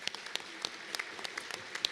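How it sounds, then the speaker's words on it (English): Sparse, scattered applause from a small audience at a rural municipalities convention, a handful of individual claps spaced irregularly and fairly quiet against a hushed room. "So give them a round of applause,"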